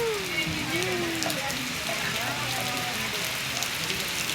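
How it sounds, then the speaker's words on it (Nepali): Heavy rain pours steadily in Bhaktapur, a dense, continuous hiss that lasts the whole stretch, with faint voices and a brief tonal sweep near the start. "हेर्नु त कति ठुलो पानी पर्यो ल"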